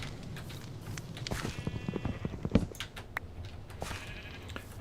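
Sheep bleat repeatedly in the video game Minecraft, several short calls over a steady background bed, with no talk.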